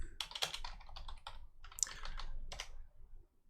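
Fast typing on a computer keyboard, close and fairly faint, with rapid clustered keystrokes in short bursts and brief pauses, alone without speech.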